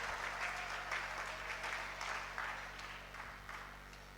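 A church congregation applauds during a French-language sermon, a faint, fairly distant patter of clapping that gradually thins and fades, over a low steady hum.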